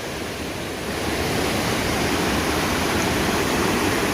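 Waterfall at Steels Creek, North Carolina, a loud, close, continuous roar of rushing water that swells slightly after the first second and holds steady with no voices.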